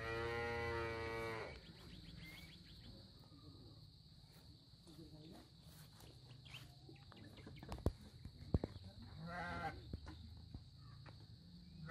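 A cow in a cattle shed below a hillside organic farm moos in a clear, loud call at the start, followed by a fainter moo later amid rustling and background noise.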